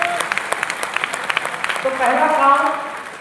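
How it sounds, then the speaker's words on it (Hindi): Audience applause, a burst of hand clapping that rises and swells in a hall, starting under a man's speech and continuing after he stops. "अपने बगल वाले के लिए एक बार जोरदार तालियां बजा दें"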